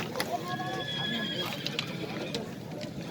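At a horse bazaar in Nookat, a small horse gives a clear neigh near the start, followed by scattered hoof clops and crowd noise, with people talking nearby.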